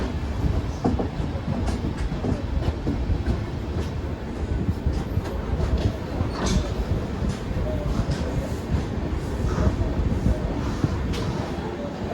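Inside a sleeper coach of the Pandian SF Express from Chennai Egmore to Madurai, the train runs with a loud, constant rumble and a rhythmic clickety-clack of the wheels, and it continues throughout.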